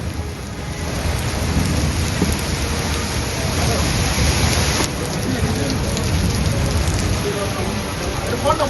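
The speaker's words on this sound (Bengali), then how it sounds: "স্বস্তির বৃষ্টি নামলো ভর দুপুরে" Heavy midday rain pours steadily across South Bengal, a dense, constant roar of downpour with thunder rumbling underneath, loud and continuous throughout.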